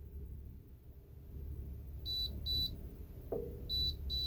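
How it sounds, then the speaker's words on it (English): A TableTop device in pairing mode gives four short high-pitched beeps in two pairs, separated by a brief pause, over a low background hum, with a single soft click between them. "So as you can see, it's beginning to beep"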